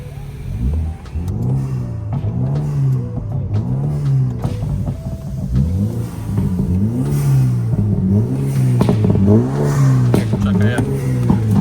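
A BMW with a turbocharged four-cylinder engine and an 8HP gearbox revs repeatedly at a large BMW meet in Poland, each rev climbing and falling in a steady rhythm, loud and close, with background chatter from the crowd.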